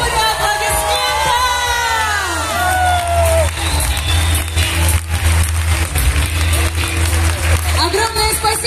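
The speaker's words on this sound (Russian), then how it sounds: "Ура! И аплодируют! Ура! Аплодисменты!" An audience at a ceremony presenting new company directors bursts into cheering and applause, with shouts and whoops over sustained clapping and a steady music bed underneath.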